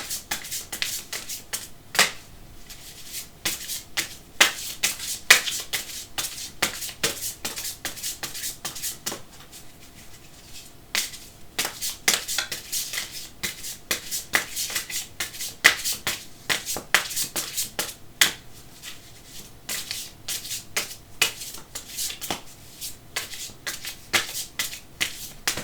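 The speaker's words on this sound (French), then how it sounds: "je coupe souvent, toujours, pratiquement en 3 fois" A deck of cards being shuffled and cut, with dense riffling bursts and sharp snaps repeating throughout, close and crisp, with no talking.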